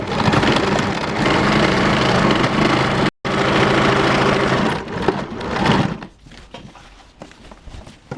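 A sewing machine stitching cloth pieces together, running steadily and loudly with a fast mechanical chatter, breaking off for an instant, then slowing and stopping into quieter handling sounds, no talk.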